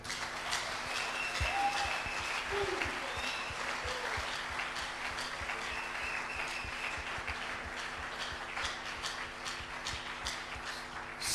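A church congregation at a Sunday worship service claps and cheers continuously in a dense, sustained wave of applause that fills the room, with scattered faint voices mixed in.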